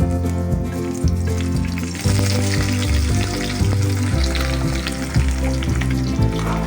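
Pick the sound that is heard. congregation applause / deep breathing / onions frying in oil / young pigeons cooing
onions frying in oil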